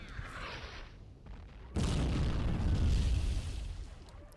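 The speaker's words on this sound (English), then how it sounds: "Artillery shells trying to pinpoint the location of the clone trooper defenses." Artillery shells exploding in a Star Wars battle video game, with one heavy, booming blast rolling into a sustained low rumble after a quieter stretch of ambient battle noise.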